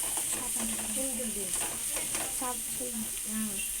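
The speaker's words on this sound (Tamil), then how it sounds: "பச்சை மிளகாய் அஞ்சு பெரிய வெங்காயம் பொடிசாக நறுக்கினது கருவேப்பிலை கொத்தமல்லி போட்டு வதக்கிட்டுருக்கிறேன்" Onions, green chilies, curry leaves and coriander sizzling and crackling in hot oil with mustard seeds while being stirred, a steady frying hiss with occasional scraping, and faint voices in the background.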